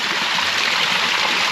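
Water pours steadily at a spring while gallon jugs are filled, giving a continuous close rushing splash with no pauses over a short stretch.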